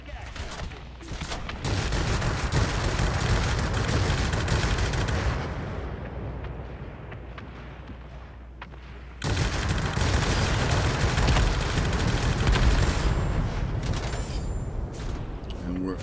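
Sustained gunfire rattles during a Spitfire attack on aircraft in a flight combat game, two long dense bursts separated by a quieter lull, with a voice talking over it.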